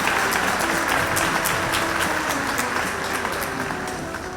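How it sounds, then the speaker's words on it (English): An audience at a college Independence Day celebration claps together for honoured guests, a full, even round of applause with sharp individual claps standing out, tapering slightly toward the end. "Can we have a round of applause for them?"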